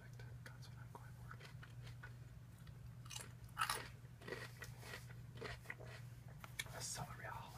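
Close, crisp crunches of celery being bitten and chewed, intermittent wet snaps over a low hum, with soft whispered talk in between.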